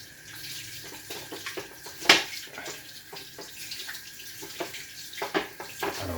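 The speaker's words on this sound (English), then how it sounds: "wash my hands, get rid of any detergent." Hands washed under running tap water, a steady close splashing stream with a sharp clunk and scattered louder splashes, no talk.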